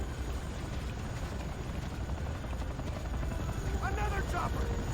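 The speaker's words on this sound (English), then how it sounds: "Another chopper. Take it out." A helicopter churns in a military shooter game, its rotor producing a continuous low rumbling whir under battle noise, with faint higher chirps near the end and no clear talk.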